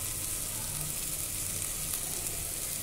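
Bitter gourd bhaji, a Maharashtrian karela dish, cooking in a pan while it is stirred, giving a steady, even sizzle with a soft scraping undertone. The sound continues throughout at a moderate, close level, with no voices.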